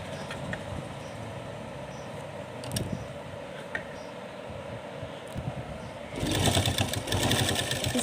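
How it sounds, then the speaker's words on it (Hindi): Sewing machine stitching a small summer dress for a Laddu Gopal idol, a steady mechanical whirr with faint clicks that becomes louder and faster near the end, close and alone. "इसी के ऊपर हम फिर से सेंटर मिलाते हुए इस तरह से सिलाई लगा देंगे।"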